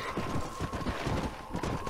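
Horse hooves in Red Dead Redemption, a steady galloping clip-clop that continues throughout, dense and close, layered over a constant ranch-ambience and music bed.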